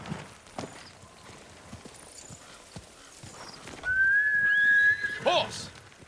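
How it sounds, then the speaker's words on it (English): In the Ghost of Tsushima game, hooves clip-clop at a walking pace through a quiet forest, then a horse gives a loud, drawn-out whinny followed by shorter snorting calls. "Horse!"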